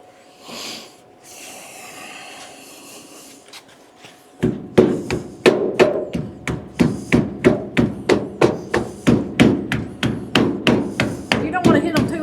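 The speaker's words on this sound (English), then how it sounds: "Hand me that rubber hammer right there, could you?" A rubber mallet strikes repeatedly in a steady, even rhythm on a Chevrolet C10 truck body, about twenty dull thuds close by, after a few seconds of quiet breathing and rustling.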